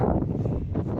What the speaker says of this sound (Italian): chiediamo scusa per il vento